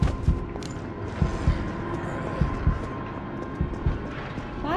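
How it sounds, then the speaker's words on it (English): Heartbeat sound effect in the Resident Evil 3 video game: low, muffled thuds recurring in a steady pulsing rhythm beneath a dark ambient game soundscape. "Why is my heart beating so fast?"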